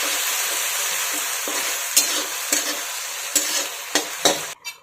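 A spoon stirs soy sauce into a sizzling pan of Indo-Chinese gravy with leftover idli, several sharp scraping strokes against the pan over a steady frying hiss, close and with no talk.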